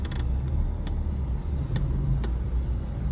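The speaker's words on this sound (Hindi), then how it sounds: "अभी गाड़ी ना यहाँ पे पार्क करते हैं।" A car idles with a steady low rumble while being parked, with a few faint clicks and creaks over it and no one talking.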